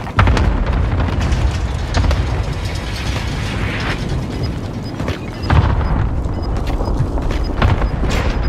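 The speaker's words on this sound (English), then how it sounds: "Precision airstrike nest." A precision airstrike in a video game lands as loud, close booms and blasts, with repeated heavy impacts and clanking mechanical rattles spread through a dense, continuous barrage.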